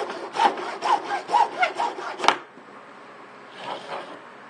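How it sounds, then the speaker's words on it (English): A piece of PVC pipe is sawn by hand in a run of quick, rasping back-and-forth strokes, close and clear, then a short gap before a few fainter strokes. "then take the piece of PVC you just cut"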